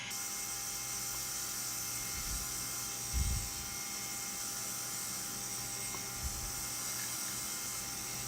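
A belt grinder with a slack belt attachment convex-grinds a bushcraft knife, giving a continuous, faint, high whine with occasional low bumps as the blade is pressed to the belt.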